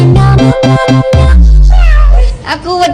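Loud, drawn-out meow-like cries sound in short bursts and then one long wail, set against upbeat music with a singing voice that may be imitating a cat.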